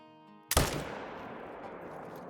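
A single rifle shot rings out at a bear roughly 400 yards away in the Call of the Wild hunting game, a sharp loud crack that trails into a long, fading outdoor echo.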